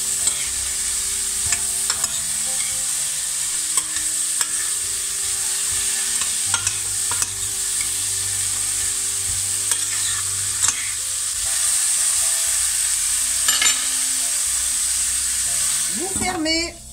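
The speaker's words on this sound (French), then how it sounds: "Faites revenir un petit peu les légumes dans l'huile" Vegetables sizzle in hot oil in a pan while being stirred, a constant bright frying hiss with scattered scrapes and clicks of the utensil, close and fairly loud, ending with a brief clatter.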